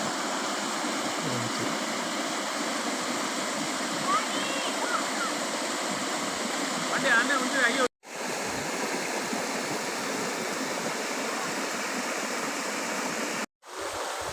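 A waterfall in the hills of Sathuragiri pours steadily, a broad unbroken rushing roar heard close, with a voice speaking over it and two brief dropouts.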